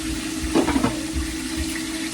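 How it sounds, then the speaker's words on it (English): Chicken fries in a pan with a steady, close sizzling hiss and a brief burst of louder crackle partway through, with no voices. "Chicken is frying."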